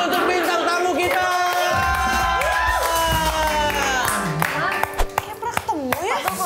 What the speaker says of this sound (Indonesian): Kita tepuk tangan dulu untuk bintang tamu kita.